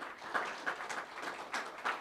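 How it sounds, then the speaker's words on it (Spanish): Applause from a seminar audience at a Spanish-language dairy expo talk, a soft, steady patter of many hands clapping with a few sharper claps, fairly quiet and distant. "Por favor, un gran aplauso para ella."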